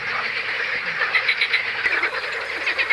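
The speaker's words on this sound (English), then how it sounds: "just like the frogs it sometimes hunts" Frogs croak at the Crna Mlaka fishponds, a dense, rapid pulsing chorus that rattles on continuously at close range with no voices.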